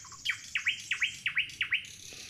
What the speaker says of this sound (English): If you guessed nightingale, you're right.